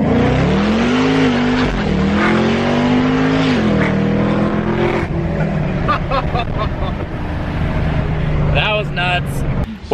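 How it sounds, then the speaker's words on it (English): A Chevrolet Camaro ZL1 launches from a standstill, the engine roaring up through rising revs with brief dips at shifts, loud and close, while people talk over it. "We're in the ZL1, about to do a launch from a standstill."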